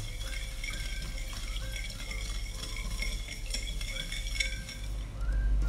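Sugar and milk are stirred in a pan to melt the sugar, a spoon scraping and clinking softly against the metal in steady strokes, with light liquid swishing and a low background hum.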